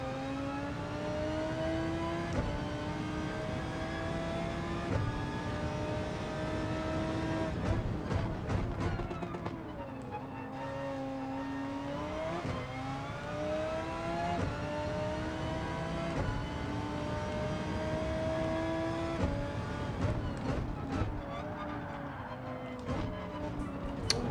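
GT4 race cars in Gran Turismo 7, with a steady, close engine drone that rises and falls through gear changes and revs as the cars race, plus occasional brief clicks and thumps.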